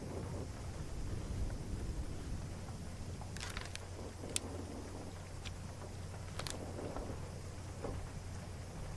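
Thunderstorm ambience from the Return of the Obra Dinn video game: steady rain hiss and a low rumble throughout, with a few sharp thunder cracks near the middle, moderately loud and without speech.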